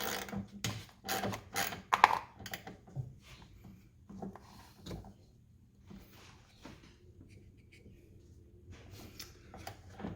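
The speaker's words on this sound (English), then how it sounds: "The stud is spinning, so just use a 10mm wrench on the stud. You can break that nut loose." A 10mm wrench loosens a ground wire nut on a spinning stud in a Ford F150 Raptor, heard as a quick run of close mechanical clicks and knocks followed by quieter, sparse handling sounds.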